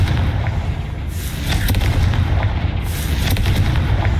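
Confringo explosion spells in Hogwarts Legacy go off in a dark spider lair full of egg sacs, loud repeated booming blasts with sharp bursts over heavy low rumble.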